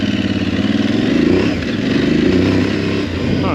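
An Aprilia Tuareg 660 parallel-twin motorcycle engine drones steadily from on board while riding, loud and close, with a slight rise and dip in revs and wind rush over it.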